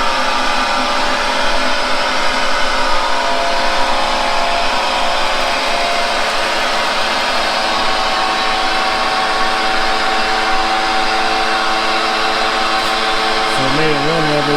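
An irrigation reel machine switched on and running gives a loud, steady mechanical whir and drone that holds constant throughout, with a slight shift in tone near the end.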